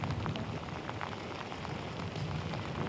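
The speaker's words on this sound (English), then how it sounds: "it looks like, Jordan, the rain has actually picked up a little more" Heavy rain pours down during flash flooding in Rockford, pounding a parking lot and roadway in a dense, steady roar that holds at the same loud level throughout, with no voices.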